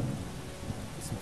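Thunderstorm with steady rain in the video game Starbound, a continuous broadband wash of rain with rumbling low end, heard under someone talking and game music.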